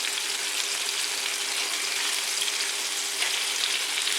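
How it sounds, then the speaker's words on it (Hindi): Chicken pieces frying in a pan for spicy chicken kabsa, giving a constant, hissing sizzle at an even level throughout with no talking. "अब चिकन को देखते हैं वो फ्राई हो चुका है।"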